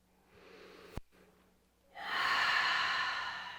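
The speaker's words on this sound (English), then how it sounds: "Just lots of breath here" Slow, deep breathing during a restorative yoga session: a soft inhale, a brief click, a pause, then a long audible exhale close to the microphone.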